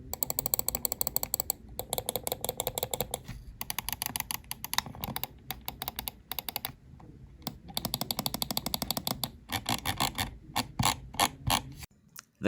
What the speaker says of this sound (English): Here's a sound test of all the buttons.